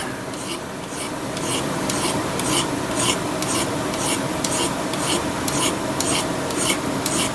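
Hand file rasping the mushroomed poll off a vintage axe head, regular back-and-forth strokes of about two per second, close, loud and steady with no talking.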